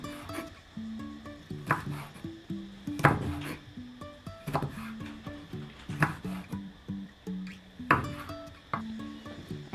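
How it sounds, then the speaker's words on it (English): A knife slices chili on a board for a Thai omelette, making a run of close, irregular cutting taps and scrapes with light clatter, all near and fairly quiet. "And for chili, I will just slice it."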